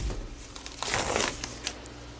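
Plastic packaging of raw chicken wings is crinkled and torn open up close, giving a short burst of crackling and rustling with no talking.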